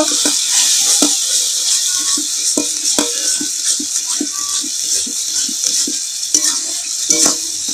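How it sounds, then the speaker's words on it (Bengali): Spiced mashed potato being stirred in hot oil in a pan, with repeated close scraping and tapping strokes of a spatula over a constant bright sizzle. "এবার এই মেখে রাখা আলুটা দেব। দিয়ে এরকম নাড়তে থাকবো।"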